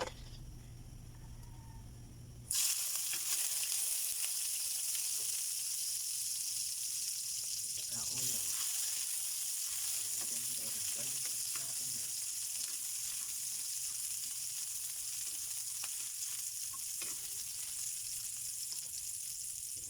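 Garlic hitting a hot pan with a sudden loud sizzle that then holds as a steady, close frying hiss, with faint stirring scrapes in the pan.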